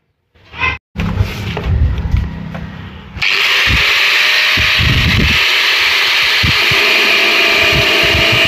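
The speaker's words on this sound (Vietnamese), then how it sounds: "sau khi mình dùng máy cắt bình vét sơ để thêm một chút không gian" A power cutter trims the battery compartment of a ride-on toy car, a loud close grinding whine that starts in rough bursts and then settles into a steady high-pitched cut with faint knocks underneath.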